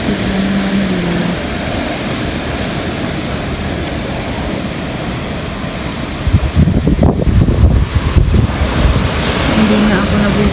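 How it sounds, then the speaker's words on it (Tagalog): Very strong wind roars and buffets loudly and continuously close to the microphone on a windy day, swelling into heavier gusts toward the end. "Sobrang hangin."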